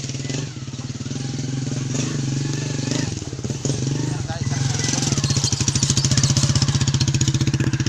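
A motorcycle engine chugs in a steady, throbbing rhythm during a ride, loud and close throughout, growing harsher toward the end, with people talking over it.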